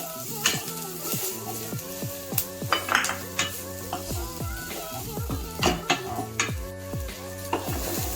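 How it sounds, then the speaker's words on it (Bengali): Ground turmeric, chili powder and cumin-pepper paste are stirred in a hot frying pan for a pabda fish curry, with a light sizzle and scraping of the spoon beneath background music. "হাফ চা চামচ জিরে মরিচ বাটা দিয়ে ভালোভাবে নেড়ে নেব"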